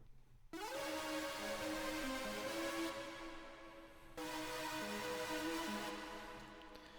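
A Yamaha CS80 synthesizer plays sustained chords, two long swelling pads with a clean break between them, rich and full, with no other sounds.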